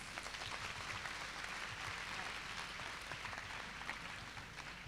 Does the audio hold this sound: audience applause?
yes